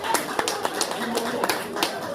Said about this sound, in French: On applaudit pour Maman Rachel.